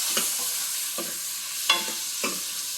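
Chopped tomatoes sauté in a pan on a low flame with a steady sizzle. A spoon stirs them in four distinct scraping strokes spaced through the sizzle, and there is no talk.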